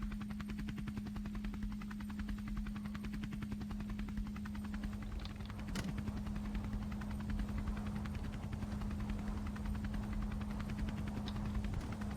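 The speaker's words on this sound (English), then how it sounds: "I'm gonna do this run in the air in the ultralight too." An ultralight aircraft flies with a steady, droning engine hum, a strong continuous buzz held the whole time with slight wind rush and a brief louder bump midway.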